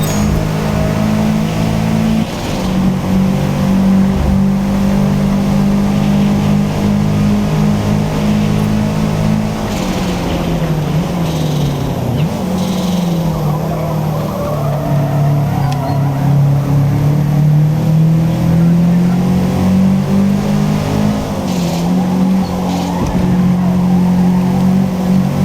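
A Subaru engine at full throttle in Forza Motorsport drones loudly and steadily, its pitch climbing and dipping with gear changes across a long continuous run, with a voice briefly heard.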